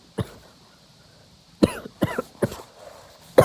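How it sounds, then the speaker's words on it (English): A person coughs close up, one cough followed after a pause by a quick run of three harsh coughs and a final one, with quiet room tone between. "sorry, I had to cough."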